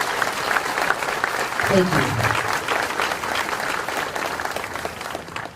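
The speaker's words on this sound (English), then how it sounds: "just give them a round of applause" Audience applause at a Kroger ribbon cutting ceremony in Collierville rolls on steadily as a crowd claps, with a brief spoken thank-you over it.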